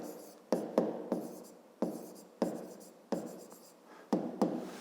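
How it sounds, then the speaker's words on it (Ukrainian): Handwriting during a math lesson sounds close and quiet, with quick scratchy pen strokes arriving in short bursts and brief pauses between them. "Пишемо перший варіант."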